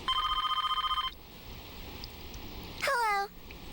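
A telephone rings with a rapid trilling electronic tone for about a second in the video game Persona 4, followed by a short melodic chime later on over quiet background ambience.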